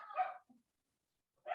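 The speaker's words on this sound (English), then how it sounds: "I wonder what he's barking at." A dog barks outside, two short muffled barks separated by a second of silence, at moderate distance.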